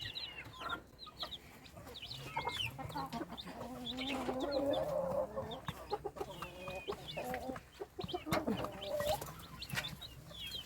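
Native country chickens on a poultry farm cluck and chatter nearby, a busy run of short calls from several birds with brief louder squawks throughout.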